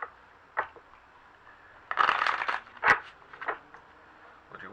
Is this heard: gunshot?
no